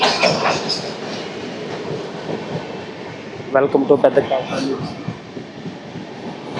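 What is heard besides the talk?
Golconda Express train running, clickety-clack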